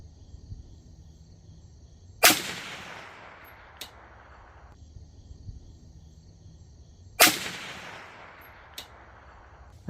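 Two sharp, loud shots from a Bear Creek Arsenal 20-inch stainless .22 WMR rifle upper fired outdoors at steel targets, about five seconds apart. Each crack trails off in a ringing decay, followed by a faint distant clink.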